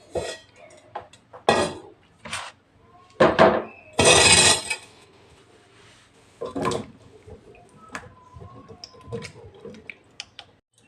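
Tomatoes and other vegetables are washed together in a bowl while preparing mushroom biryani. Hands jostle the produce, producing irregular clinks, knocks and rustles against the bowl, with short, close bursts of splashing water.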